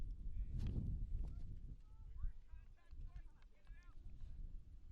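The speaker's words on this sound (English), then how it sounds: "Pretty windy." Wind gusts across an outdoor high school soccer field during a prep final, a broad low rumble of microphone buffeting that is strongest early and then eases. People talk throughout.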